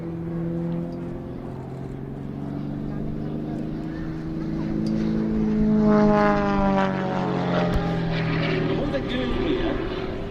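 A model propeller aircraft flies aerobatics at an air show, its high whining engine rising and falling in pitch as it loops and passes fairly close over a steady outdoor background.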